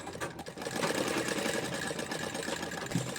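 A sewing machine runs steadily through a straight seam on a palazzo pant, a continuous close whirring that holds for the whole stretch without pause.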